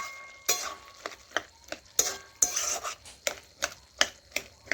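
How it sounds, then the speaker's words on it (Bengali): A spoon scrapes and knocks around a pan of vegetable curry in repeated rhythmic strokes, each stroke a sharp clatter over a faint sizzle, close up and with no talking. "তো ভালোভাবে এইভাবে নাড়াচাড়া করে দেখুন আমি তরকারিটা মেট করে নিচ্ছি।"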